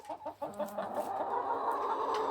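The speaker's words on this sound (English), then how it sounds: "She's a good chicken." A large hen of uncertain breed clucks close by in a backyard flock, a quick run of short clucks at first followed by a steady, louder murmur of clucking and fowl chatter.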